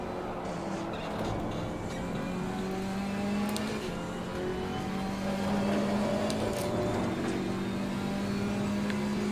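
A steady engine drone from a KTM race car lapping Suzuka in Assetto Corsa Competizione, holding a constant pitch with slight shifts as a faster car closes in, continuous and moderately loud with no talk.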